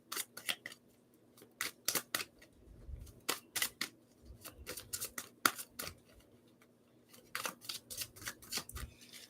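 Tarot cards being hand shuffled, a run of crisp snapping riffle bursts in irregular clusters with brief pauses, close and fairly quiet, no talking.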